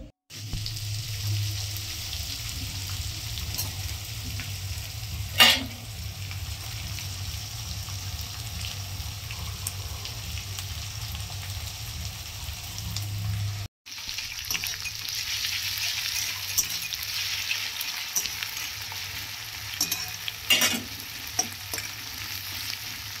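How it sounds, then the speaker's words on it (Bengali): Chicken fries in a pan while being stirred, giving a continuous close sizzle with occasional utensil scrapes and clinks and a brief break midway, with no talking. "তো এখন চলো চিকেনটাকে রান্না করে নিই।"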